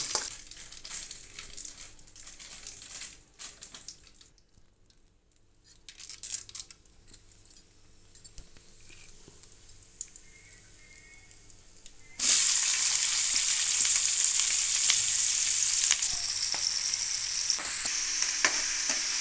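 Brinjal frying in a pan for hotel-style vankaya kurma: a quieter stretch of faint kitchen sounds, then a loud, steady sizzle of hot oil that continues to the end.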